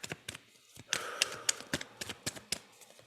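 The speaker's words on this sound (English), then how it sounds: "as I'm shuffling these cards" Tarot cards being shuffled by hand, a series of sharp, close riffling taps and clicks in an irregular rhythm, alone without talk.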